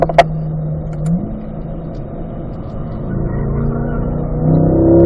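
Car engine on a racing circuit at a performance driving school, revving up and climbing in pitch as the driver shifts up into fourth gear, loud and close with a brief shift dip before rising again.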